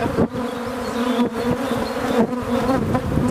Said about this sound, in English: The bees are in there.